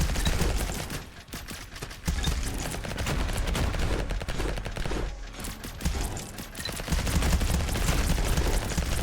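Gatling guns fire in the video game Vampire Hunters as dense, rapid, continuous bursts with a few short pauses, loud and close amid other battle noise.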